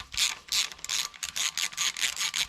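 Rapid clicking of an M5 socket ratchet loosening the brake caliper pins on a Honda CBR600F4 motorcycle, a quick even run of about a dozen ratchet clicks, close and fairly quiet.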